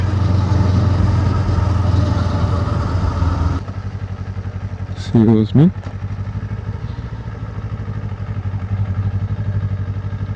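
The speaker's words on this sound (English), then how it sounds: "riding on your motorcycle just feels so good" A Kawasaki Ninja 500 motorcycle engine with stock exhaust drones steadily while riding. A brief spoken remark cuts in partway through, along with a short chirping squeak.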